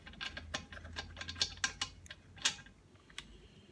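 A spark plug socket turns to loosen the spark plug on a whipper snipper, giving quiet ratcheting clicks and small metallic taps in an irregular sequence. The clicks are close but soft, with no voices.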